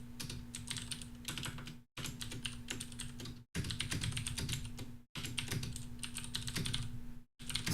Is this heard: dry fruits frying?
no